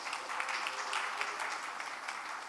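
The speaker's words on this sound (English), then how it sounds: "Round of applause, please." A conference audience breaks into a steady round of applause, with moderate, even clapping that lasts the whole moment and no voices over it.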